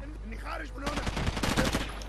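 Rapid burst of gunfire in the tactical shooter game Rainbow Six 3, a quick string of close shots that follows a stretch of faint background game noise.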